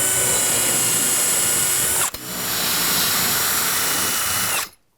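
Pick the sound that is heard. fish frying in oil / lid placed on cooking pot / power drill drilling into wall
power drill drilling into wall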